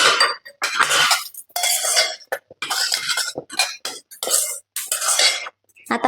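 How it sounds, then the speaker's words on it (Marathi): Spoon clinking and scraping in a pot as toppings are stirred into lapshi kheer, a broken-wheat milk pudding, with irregular bursts of clatter and brief pauses, fairly close and loud. "आता हे सगळं आपण खिरीवरती घालून घेऊ आणि छान असं मिक्स करून घेऊया."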